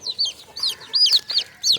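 Native country chickens cluck close by in a quick series of short, bright calls, about six of them in under two seconds.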